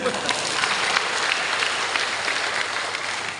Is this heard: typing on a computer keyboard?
no